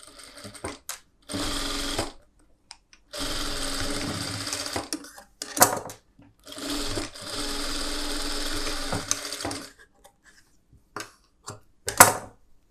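A tailor's sewing machine stitches darts on a collar neck blouse in several separate bursts of rapid whirring stitching, each lasting one to two seconds, with short pauses and small clicks between them.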